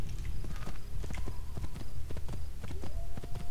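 A horse's hooves clip-clop rapidly and loudly at a gallop in Assassin's Creed 2, with game effects and faint voice bits around them.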